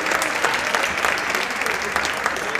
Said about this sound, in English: One more round of applause, ladies and gentlemen.